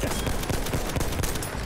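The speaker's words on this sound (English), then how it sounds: "that was terrible shooting, but I got him" Rapid continuous gunfire in Battlefield 1, a loud dense burst of repeated shots with no pauses, close and dominating.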